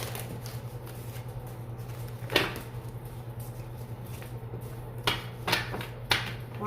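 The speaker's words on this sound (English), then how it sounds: "One more shuffle." Tarot cards shuffle in close-up, soft riffling and sliding with a few sharper slaps of the deck against a steady low hum.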